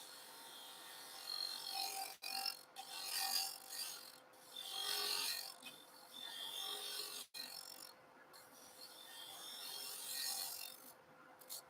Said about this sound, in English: This is a bevel rubbing cut with the scraper on a 45-degree angle.